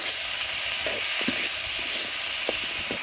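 Tomatoes and eggplant sizzle steadily in a hot pan while a utensil stirs them, scraping with a few sharp clinks over a constant frying hiss.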